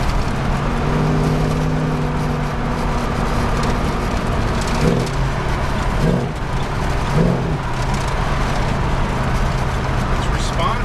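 A carbureted car engine idles unevenly with a steady low rumble, while people talk close by over the running motor.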